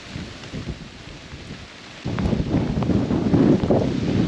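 Steady rain and gusting wind, quieter at first, then surging sharply louder about halfway through into a heavy, roaring downpour with buffeting wind.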